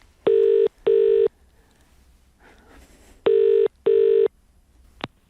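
Two pairs of electronic telephone rings sound close and loud, separated by a pause with faint background noise, followed by a short click at the end.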